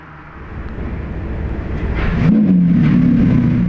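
An orange Lamborghini Urus with red brake calipers drives past, a loud steady engine roar building and rising in pitch as it nears, close and outdoors, with no talk.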